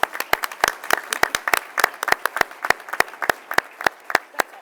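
A small group at a board meeting claps in brisk, uneven bursts, close by, each clap sharp and distinct, with no talking over it.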